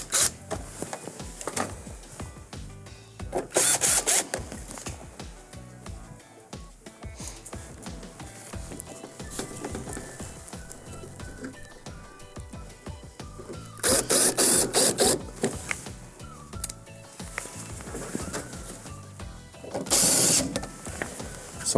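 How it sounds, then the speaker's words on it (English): Screws being driven back in to secure the lower service panel of an Estate refrigerator, heard as short bursts of ratcheting, whirring mechanical noise separated by quieter handling clicks. "line up the screw holes on the service panel and then re-secure the panel with the 4 1/4-inch screws we removed earlier"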